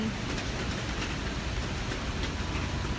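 Steady rain falling during a Thai live stream, a dense, even hiss of drops on surfaces that continues without pause, fairly loud and close, with no talking.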